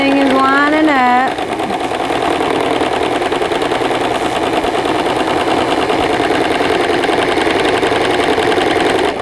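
Sewing machine stitching along an existing seam line by a trim, running steadily and loudly with a fast, even mechanical whir throughout, preceded by a brief voice at the start.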